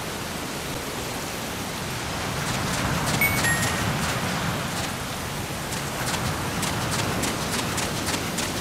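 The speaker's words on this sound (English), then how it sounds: "Remember that your footsteps are louder when running, making you easier to discover." Running footsteps in the Metal Gear video game played on PPSSPP sound as rapid, steady thuds over a noisy background like rain. They stay fairly even and mid-loud throughout, with no talking.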